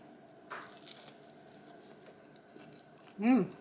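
Crunchy pan-cooked keto protein pizza snack being chewed close to the mic, soft bites and chewing early on, then a louder crunchy chew near the end.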